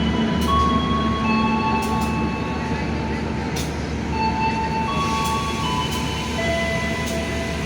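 The KA Motis passenger train sits idling at Kutoarjo station in Indonesia, giving a steady loud rumble broken by faint squeals and hisses, with station voices in the background.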